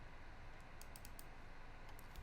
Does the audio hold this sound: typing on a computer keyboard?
yes